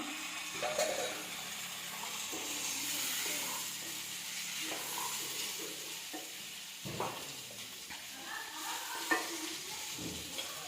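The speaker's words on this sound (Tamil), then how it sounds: "கத்திரிக்காயும் வெங்காயம் தக்காளியெல்லாம் நல்லா வதங்கிடுச்சு" Brinjal, onion and tomato sizzle steadily while sautéing in a pan, a continuous close frying hiss broken by occasional stirring scrapes and soft knocks.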